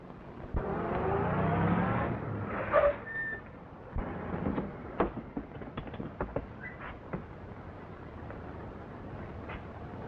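A 1930s car engine runs and revs briefly at the start, followed by scattered clicks and knocks as things quiet down.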